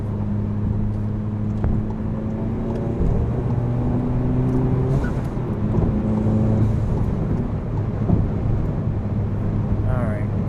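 A VW GTI running JB4 map 6 pulls hard, heard from inside the cabin as a steady, loud engine drone with layered harmonic hum that shifts pitch partway through.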